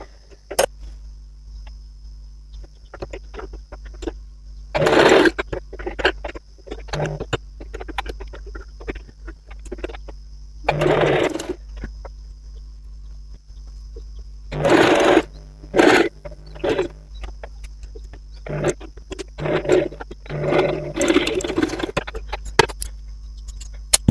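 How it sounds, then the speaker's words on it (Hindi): A sewing machine stitches a seam on a ladies' trouser in several loud bursts of running. Between the bursts come quieter clicks and handling noises. "यहाँ पे हमने दोनों स्टिच को इस तरह से मिलाया और इस पे ही हम क्या करेंगे, सिलाई लगाएंगे।"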